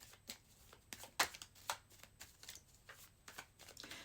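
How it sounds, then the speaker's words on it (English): A deck of cards is shuffled close up and quietly, making a string of sharp riffling flicks and taps at an uneven rhythm. "let me just shuffle this deck a little bit"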